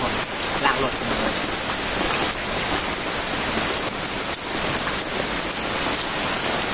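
Heavy rain pours down during a car wash, a dense, loud and unbroken hiss of drops striking surfaces that continues throughout.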